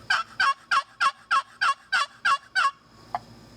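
A Lynch's World Champion Turkey Call, model 102 box call, rasps out a rapid run of nine evenly spaced, loud gobble-like yelps close up, imitating a wild turkey, then falls silent apart from a single faint click.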